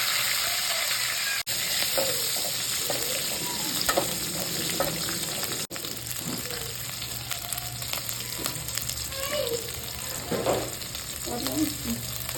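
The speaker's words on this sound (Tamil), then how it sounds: "கருவேப்பிலை, 4 பச்சை மிளகாயை போட்டால் குழம்பு ருசியாக இருக்கும். எண்ணெயில் போட்டு தாழ்த்தி" Curry leaves and green chilies frying in hot oil for a brinjal kara kuzhambu give a continuous close sizzle, with scattered pops and the occasional scrape of stirring, and faint talk now and then.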